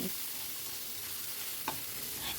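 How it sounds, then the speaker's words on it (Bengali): Mashed fish and bitter gourd are stirred together in a pan over a high flame, giving a quiet, steady hiss with a couple of brief spatula scrapes near the end. "এবার কাট স্ম্যাশ করা মাছটা দিয়ে দিলাম দিয়ে সব কিছু ভালো করে মিশিয়ে নিচ্ছি"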